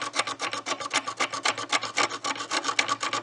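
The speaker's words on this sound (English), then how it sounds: "just take this little tiny hacksaw blade. You can see this is back up here, just a little handheld hacksaw" A small handheld hacksaw blade rasps back and forth, cutting a groove into a screw on a 1910 Singer sewing machine, with steady, fast, even strokes close up and no talking.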